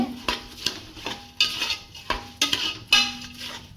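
Basmati rice and spinach stirred in a metal pot for palak pulao, a spoon scraping and clinking against the sides in several distinct strokes with short gaps between, close and clear with no voices.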